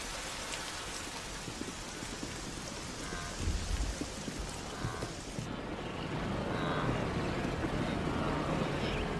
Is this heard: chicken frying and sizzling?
no